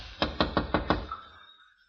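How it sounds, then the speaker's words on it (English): A door is rapped five times in quick, even succession in a radio drama, each knock crisp and close, with a short fading tail afterward. "I ran up the walk, rapped on the door."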